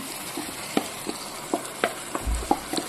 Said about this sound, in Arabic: الكبده كده بس تاخد تشويحه حلوه كده في الزيت، وبعدين هنزل بالفلفل كده